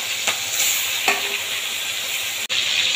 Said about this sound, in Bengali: তেলের মধ্যে দিয়ে দেবো আমি এই চিংড়ি মাছগুলো